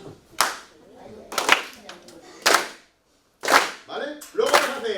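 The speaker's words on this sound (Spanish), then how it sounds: "Vamos a hacer ahora una sinfonía de los juguetes todos con palmas" An audience at a children's educational concert of the Toy Symphony claps in unison, sharp group hand-claps landing in short bursts with brief pauses and a leader's voice between them.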